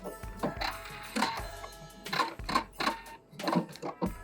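Sewing machine backstitching the top of a lining seam on a baguette shoulder bag, with short bursts of rapid mechanical stitching separated by brief pauses, close and fairly quiet, no talking.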